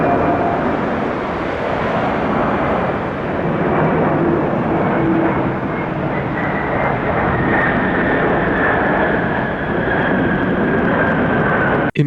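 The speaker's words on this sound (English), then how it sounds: "This B-767 has an emergency landing with no slats." A Boeing 767 airliner making an emergency landing without slats in strong gusty wind, its engines giving a loud, steady broadband roar throughout with a sharp thump at the very end.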